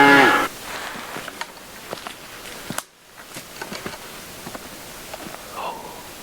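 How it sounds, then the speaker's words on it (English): Outdoors on a Washington elk hunt, cows moo in the morning: a louder low call at the start, then a fainter distant one later, with footsteps and rustling in between. "Cows are pretty talkative this morning."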